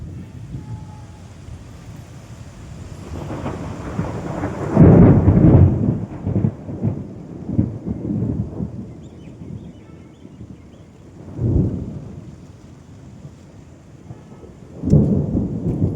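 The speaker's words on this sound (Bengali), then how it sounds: "এত জোরে জোরে বিদ্যুৎ চমকাচ্ছে বন্ধুরা, বলার মতন নয়। বৃষ্টি এসে গেছে" Thunderstorm with lightning and rain, deep rolling thunder bursts rumbling in around five seconds, again near eleven and fifteen seconds, over a steady hiss of rain and some wind noise.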